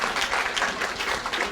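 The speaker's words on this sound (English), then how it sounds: "they can arrive to thunderous applause" Thunderous audience applause at an annual meeting, dense steady clapping from a large crowd filling the whole moment without a break.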